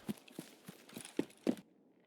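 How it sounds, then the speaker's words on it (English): Footsteps in the Escape from Tarkov video game, a run of about six soft, fairly close thuds at an uneven walking pace, the last ones louder, then quiet. "I hear footsteps again."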